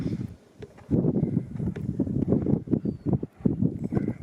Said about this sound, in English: the wind's blowing the sand out